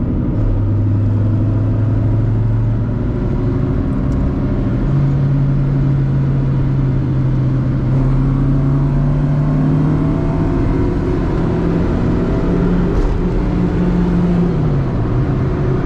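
Honda Civic EK9 replica engine revving hard while driving, loud and continuous from inside the car, the pitch climbing through the gears with short drops at each shift.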